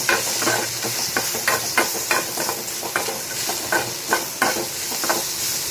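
Ivy gourd stir-frying with red chili powder on a low flame: continuous close sizzle broken by regular scraping stirs of the spatula in a quick rhythm, no talking.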